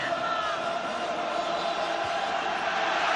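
Huge all-ticket crowd of 67,000 packing Celtic Park for a European Cup quarter-final first leg against Real Madrid, a dense, steady roar of voices with scattered shouts, continuous and loud throughout.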